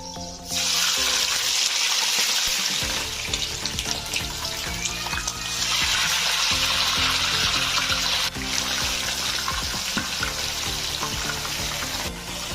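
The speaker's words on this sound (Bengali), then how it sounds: "এইভাবে আমি সবগুলো তেলের মধ্যে একটু সাত মিনিটের মতো ভেজে নেব" Chicken pieces coated in spice paste fry in hot oil, giving a continuous loud sizzling hiss throughout, with steady background music underneath.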